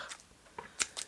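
A few quick, crisp snips of scissors cutting ribbon, close and sharp, spaced unevenly over about a second.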